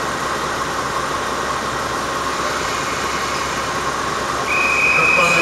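A KiHa 47 series 7000 diesel railcar on a sightseeing train pulls out of Shimonoseki Station, giving a steady engine rumble and broad rail noise that grows louder toward the end, where a thin high tone sets in.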